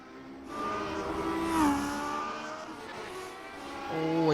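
Lotus 7 race car in the iRacing sim, rear tyres locking and skidding with a drawn-out squeal over steady engine drone, loud and continuous across the track.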